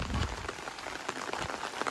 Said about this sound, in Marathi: पाऊस पण पडत आहेत.